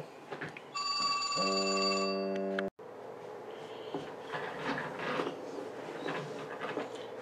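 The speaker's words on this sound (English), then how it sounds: "And there goes the phone." A telephone rings indoors in a single sustained electronic ring of about two seconds, which then cuts off abruptly and gives way to quiet room noise and handling sounds.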